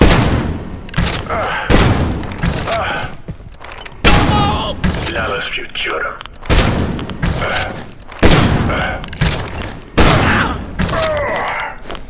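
Shotgun blasts in the video game Abiotic Factor: about seven loud, sharp booms at roughly regular intervals of one to two seconds, each with a short decaying tail, with a voice talking between the shots.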